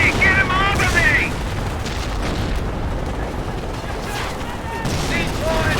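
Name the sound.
automatic machine gun fire in the video game Company of Heroes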